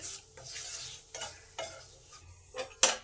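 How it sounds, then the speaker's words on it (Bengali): Cumin seeds, a broken dried red chili and two bay leaves fry in hot oil in a pan, giving a soft, close sizzle broken by several sharp spoon scrapes and stirs; no one speaks. "কিছুটা জিরে দিলাম একটা শুকনো লঙ্কা ভেঙে দিয়ে দিলাম দুটো তেজপাতা দিলাম এগুলোকে একটু ভালো করে ভেজে নেব কয়েক সেকেন্ড"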